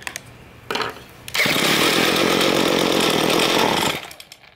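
Small two-stroke engine running after its carburetor idle screw is adjusted, a loud, buzzing, raspy roar close by that revs up and holds for about three seconds before dropping away, preceded by a brief shorter burst.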